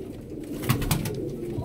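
Pigeons in a loft give soft, low coos, two short throaty pulses standing out over a steady background hum.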